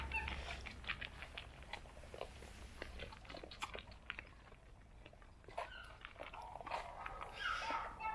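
Several Australian Shepherds crunch and chew dry kibble nearby, with scattered clicks and bites over a low background hum.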